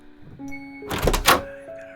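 A door being unlocked and opened in a horror story setting: a couple of clattering thunks of the key and handle close by, alone and fairly loud, with no talk.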